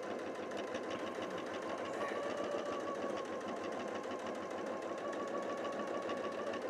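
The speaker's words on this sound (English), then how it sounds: "I'm just going to sew down that side" A sewing machine runs steadily, stitching down the side of an elastic bookmark and journal closure, with an even mechanical whir and fine rapid rhythm held close and continuous throughout, no talking.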